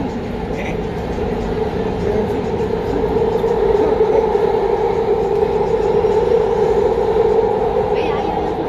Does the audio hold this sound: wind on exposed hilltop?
no